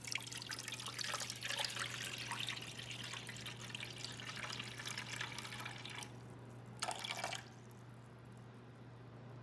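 Water pours steadily into a mixing bowl on a kitchen scale for sourdough, a continuous splashing trickle for about six seconds, then a short final splash and a quiet hum.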